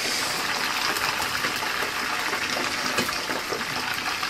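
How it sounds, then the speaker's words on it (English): Fish with high water content frying in hot oil during home cooking, giving a continuous loud sizzling hiss with scattered crackles and spatters, steady throughout and with no talk. "That's the only thing I hate about frying this kind of fish, especially fish that has lots of water content."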